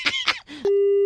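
After a couple of short throaty vocal bursts, a steady continuous telephone tone starts and holds unbroken to the end, loud and close, following a call hung up on a radio show.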